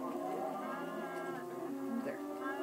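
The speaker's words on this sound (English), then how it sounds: "all we're gonna do is spawn in some cows." Cows moo in Minecraft, a sustained lowing call that stays steady and fairly loud throughout with no talk over it.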